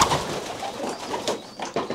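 Racing pigeons in a loft housing cock birds give soft, close, low cooing calls in short overlapping bursts.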